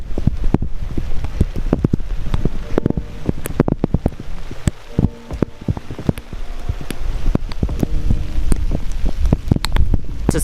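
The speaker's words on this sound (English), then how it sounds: "now it's raining / sleeting" Rain mixed with sleet pelts down on a mountain in Svaneti, Georgia, a dense, loud patter of close drops and icy taps hitting the microphone and surfaces, with gusts of wind and no talking.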